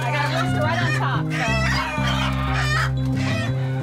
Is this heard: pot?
no